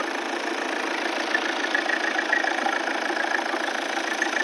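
A 2014 Volvo V70 2.0 D4 diesel engine idling close by, a constant mid-pitched hum with light rattling texture and no voices.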